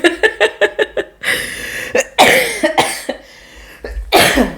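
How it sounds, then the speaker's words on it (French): A burst of rapid coughs in a quick run, then rougher, heavier coughing and throat sounds, loud and close. "c'est pas le moment de tousser déjà comme un camionneur"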